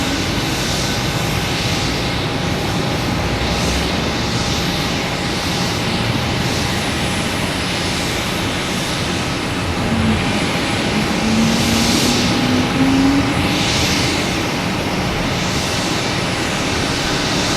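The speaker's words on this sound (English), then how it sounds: "We got a JetBlue here heading to Buffalo, an A320. And a JetBlue landing from Charleston." A JetBlue Airbus A320 landing at Boston Logan Airport gives a loud, continuous jet engine roar that holds steady throughout, with a faint whine rising near the middle.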